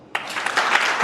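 Audience applause breaks out suddenly after a brief quiet start and holds steady as a dense patter of clapping for about a second.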